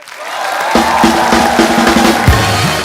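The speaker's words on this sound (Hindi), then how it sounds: "जोरदार तालियां पहले" A studio comedy-show audience cheers and whoops loudly, a dense crowd roar with shouts over continuous applause, while music tones run underneath.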